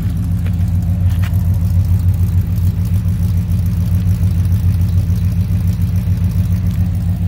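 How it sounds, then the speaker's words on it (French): A 1986 Chevrolet C10 pickup engine runs loud and close with a deep, pulsing rumble, held at raised revs under acceleration, steady throughout with no talking. "Et à l'accélération, évidemment, c'est beaucoup plus, beaucoup moins discret"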